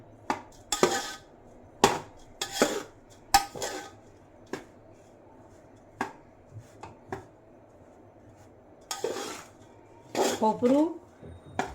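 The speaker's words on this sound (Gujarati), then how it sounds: "આવી રીતે એક રસ બધું હલાવી નાખવાનું છે." A coconut and peanut powder mixture is stirred in a pan for a peanut sweet, giving scattered scraping and clinking utensil knocks at an irregular pace, with talk throughout.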